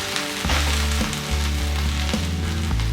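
Okra (bhindi) shallow frying in a pan, a loud continuous sizzle of hot oil close up, with periodic stirring scrapes and clicks breaking in every half second or so.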